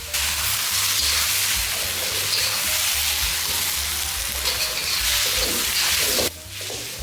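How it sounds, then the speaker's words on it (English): Yellow noodles with choy and dark soy sauce stir-fried in a pan, giving a loud, steady sizzle and hiss that drops away abruptly near the end. "Next, continue stir-frying to bring out the aroma of the noodles."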